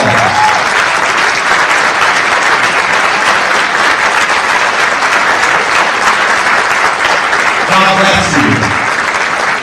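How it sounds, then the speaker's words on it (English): Teachers and educators at a STEM hub ribbon-cutting ceremony at a charter school receive a long, loud round of applause from the crowd, steady and dense throughout, with some voices mixed in near the end. "Let's give them a round of applause."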